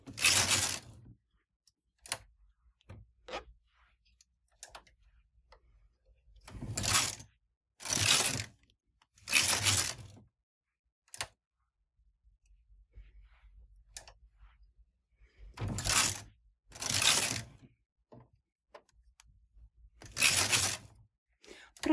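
A single-bed knitting machine carriage is pushed across the needle bed in repeated rows, each pass a rasping, ratcheting sweep of a second or two, arriving in pairs and clusters with quiet handling clicks between them and no talk.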